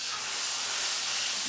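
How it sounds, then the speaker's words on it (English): Ground beef mixture sizzles in a large hot cast iron pan, a steady faint hiss running evenly throughout with no talking. "you're going to simply add the ground beef mixture into the pan"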